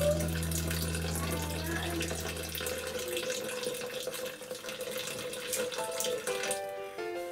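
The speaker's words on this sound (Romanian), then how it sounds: "Adaug 700 de grame de apă." Water pours steadily into a Thermomix bowl as 700 grams are added for a mushroom cream soup, a continuous close rush that fades to a thinner trickle near the end.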